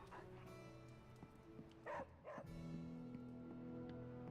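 A dog barks a couple of times in Marvel's Midnight Suns on PC, short game-sound yips set over steady background music and ambience, with someone talking over parts of it.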